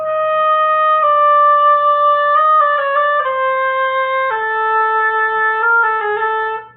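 Measures 18 and 19 of the All-State etude played together on oboe, a continuous close solo phrase of held and quickly moving notes stepping downward over several seconds, clear and unaccompanied.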